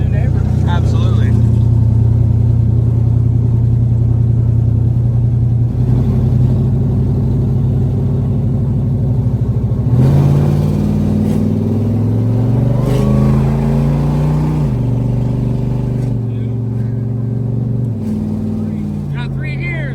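A Ford Raptor R truck engine revs loudly and continuously up close, its deep roar climbing and then dropping in distinct steps as it shifts through gears.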